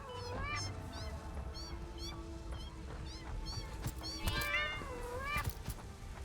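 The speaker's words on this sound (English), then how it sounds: "Why are the cats at the base?" Several cat creatures in the game Satisfactory meow and yowl in overlapping bursts, some rising and falling, over background game noise with scattered clicks and thuds, getting louder and more crowded toward the end.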